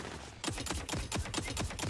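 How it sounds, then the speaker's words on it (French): A loud gun in the video game Tiny Tina's Wonderlands fires a rapid burst of roughly a dozen sharp, evenly spaced shots after a brief quieter moment, with no voices over it. "Ça doit être le deuxième canon le plus bruyant que j'ai jamais entendu!"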